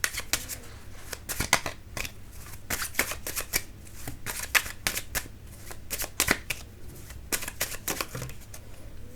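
Tarot cards are shuffled and drawn in a steady run of crisp riffling flicks and snaps, close and fairly quiet, with no voice over them.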